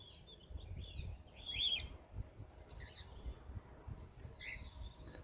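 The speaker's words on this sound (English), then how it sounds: "behind me you will have heard our cockatiels and the cockatiel aviary here." Cockatiels call from an outdoor aviary on a sunny day, giving faint, scattered chirps and short whistles at a distance over a low background rumble.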